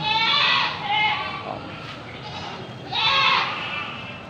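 Goats bleat at a livestock auction market, with two close, loud quavering calls and softer bleats between them, over a busy crowd murmur and voices.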